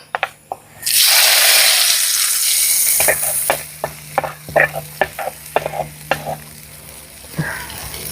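Hot masala tempering is poured into a clay pot of Kerala-style sardine curry and erupts into a loud, sudden hiss that slowly fades, followed by a series of sharp scraping stirs and clinks against the pot.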